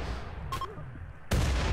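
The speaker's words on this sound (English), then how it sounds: "Oh, look at that explosion." Explosions go off in RimWorld during a fight with elk, a short muffled blast early on, then a sudden loud broadband boom that keeps rumbling to the end.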